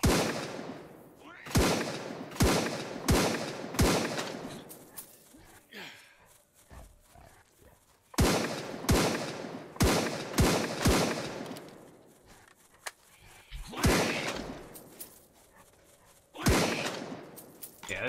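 A rapid string of gunshots fired while hunting a boar in the game Straya, loud sharp cracks in quick bursts separated by short pauses, repeating across the clip with a few quieter gaps between volleys.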